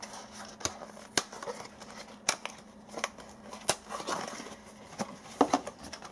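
Skullcandy Smokin Buds 2 earbuds being unpacked from their packaging, a series of sharp plastic clicks and snaps with soft crinkling rustles in between, close and quiet with no talk.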